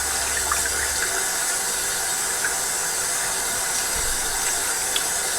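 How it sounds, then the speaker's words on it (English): Water runs steadily while a work area is rinsed out during cleaning of an Eheim 2213 aquarium filter, a constant broadband hiss from a tap or sink. "I'm just going to, again, rinse out my my work area here."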